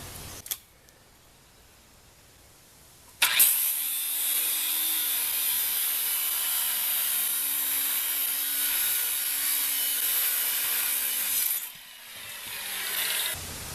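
A Hitachi saw cutting off driven wooden fence posts for tractor shed anchor posts: after a couple of soft knocks, a loud, steady high-pitched cutting whine runs for about eight seconds, then drops off with a brief tail of sound.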